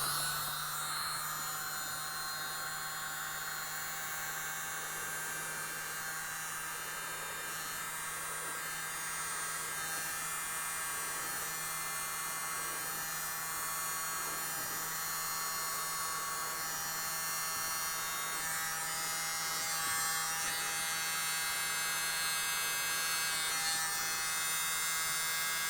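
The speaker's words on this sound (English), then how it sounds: "Grab my little mini blower" A small USB-powered mini blower hums steadily and close, drying acrylic paint with a constant whirring drone and a low mains-like tone, with no talking.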